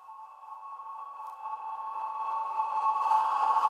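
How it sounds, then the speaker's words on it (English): Riser made from a reversed Snapchat notification sound, a steady tonal swell that grows gradually louder over a few seconds and cuts off abruptly. "I have this little riser that I actually made out of reversing the Snapchat sound"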